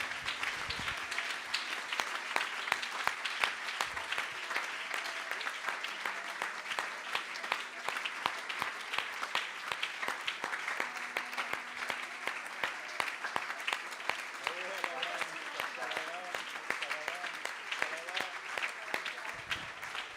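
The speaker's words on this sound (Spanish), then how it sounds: "si ese aplauso es para Él, hermano, yo creo que lo podemos hacer mejor" Church congregation applauding during a worship service, a steady dense patter of many hands clapping throughout, with faint background singing or voices mixed in.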